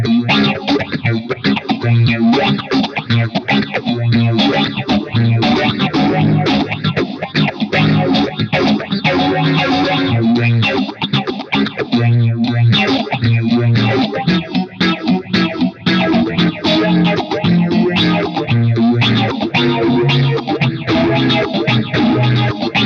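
Electric guitar played through a JHS 3 Series phaser pedal with a funky sweeping phase effect, dense rhythmic chords continuing loudly and steadily throughout with no talking.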